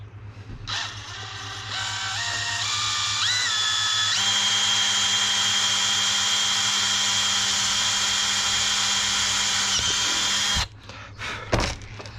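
A DeWalt cordless power drill whirs at high speed while wiring a homemade turbo jet boat, spinning up in stepped pitches before holding a long steady whine, then cutting off abruptly with a few clunks of handling.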